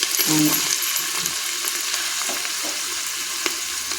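Tomatoes frying and sizzling in a hot pan for tomato rice, a loud, steady hiss with light stirring clinks near the start.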